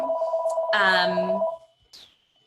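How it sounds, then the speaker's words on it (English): A mobile phone rings close by with a short electronic ringtone burst of bright repeated tones, followed by a fainter chirp, while a voice talks over it. "it just really distracted me with my phone started ringing"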